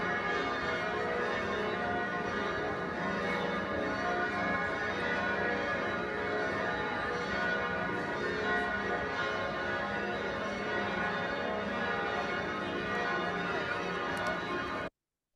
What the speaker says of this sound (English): We were fortunate enough to be in the right place when these bells in the South Tower were rung during a mass.